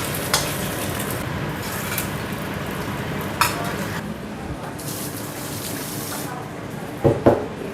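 Leftover food from the day before being reheated in a pan, a steady broadband sizzle and frying crackle running throughout with a few sharper clatters of stirring, moderately close, with someone talking intermittently over it.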